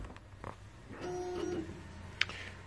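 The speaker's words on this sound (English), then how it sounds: "You hear the printer load up in the back." A CakePro direct-to-food printer printing onto Smarties whirs and clicks as it loads up for a print, with soft mechanical movements, a brief motor tone and a sharp click near the end, fairly quiet in the background.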